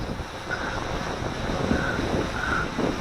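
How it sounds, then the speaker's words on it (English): Steady wind rushes and buffets the microphone outdoors while a WLToys V303 GPS drone is flown, a constant windy roar with no talk. "The wind is blowing."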